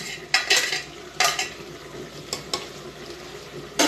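Chicken wings fry in a pan in a home kitchen, a continuous sizzle punctuated by sharp utensil scrapes and clatters against the cookware at irregular moments.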